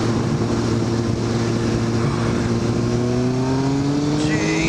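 A 2001 Kawasaki ZX9R E1 motorcycle in third gear accelerates hard from about 30 to 70 mph, its engine note climbing steadily in pitch, loud and close with wind rush throughout.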